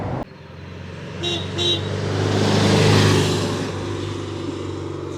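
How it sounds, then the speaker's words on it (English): A Volkswagen Type 2 T2 camper van engine drones steadily at about 50 mph, its revs climbing and building in the middle before easing slightly, with road and wind noise throughout. "We're up to 50 miles an hour, and as you can hear, the revs are piling on a bit."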